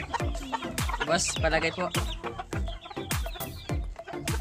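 Chickens, some small and some large, cluck and squawk close by in sharp repeated bursts, with a few brief spoken words mixed in.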